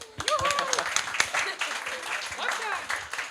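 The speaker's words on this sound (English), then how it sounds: "maybe a short applause for Wolfgang" Short applause from the audience at a Hamburg conference stage event, with voices and chatter mixed through the clapping, which stays moderate and fairly close.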